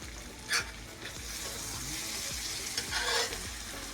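Potatoes and onions fry in a pan at low volume, a soft continuous sizzle with a couple of brief louder spatters and stirring scrapes, with no voices.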